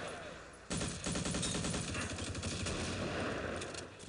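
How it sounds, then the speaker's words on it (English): A French 75 field gun fires in the Close Combat war game, a sudden loud blast followed by a dense stretch of rapid gunfire and explosions that carries on before easing off. "French 75 gun."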